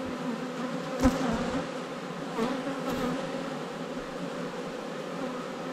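Honeybees buzz around a hive at an apiary during end-of-season work: a dense, steady drone of many wings close by, with a few individual bees flying past louder, and no talking.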